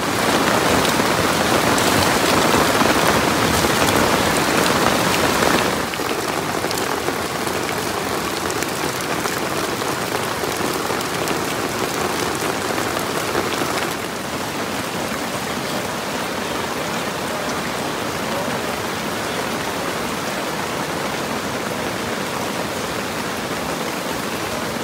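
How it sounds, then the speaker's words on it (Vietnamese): Heavy rain during flood season pours down in a steady, loud hiss that drums on surfaces without a break, easing slightly partway through and then holding constant. "Mưa tới rồi."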